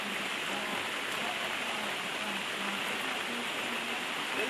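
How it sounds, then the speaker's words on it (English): Rain falls outdoors where a child is playing, a steady soft hiss of noise that stays even throughout the short stretch with no distinct drops standing out and no voices. "Is it raining on you?"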